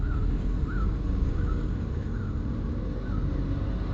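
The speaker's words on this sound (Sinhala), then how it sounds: "මේ පාරේ මේ යනකොට රැහැයියෝ කෑ ගහනවත් ඇහෙනවා" Cicadas call along a road near Kalatuwawa, with a repeating rasping chirp rising every half second or so over a steady, noisy rumble of travel, with no one talking.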